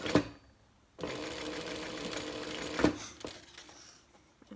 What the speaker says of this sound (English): just stitch this strap connector together so it doesn't, the D-ring doesn't fall out.